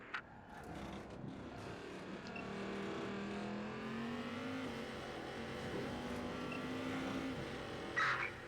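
In the Watch Dogs 2 video game, a car chase carries a steady, loud engine drone with shifting revs, and a brief tire squeal near the end.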